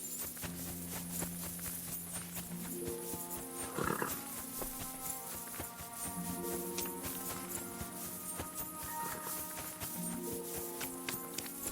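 Ghostly horse hooves from a video game, the spectral horse of Kingdom Come: Deliverance II, clopping at a steady walking pace in the foreground over a sustained musical score, with no speech.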